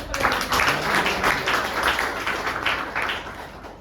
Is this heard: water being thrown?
no